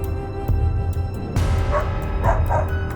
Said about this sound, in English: barking aggressively.